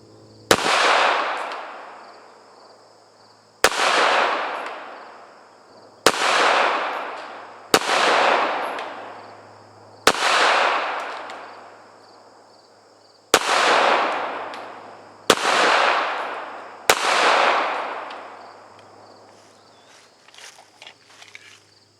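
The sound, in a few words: pistol gunshots at a shooting range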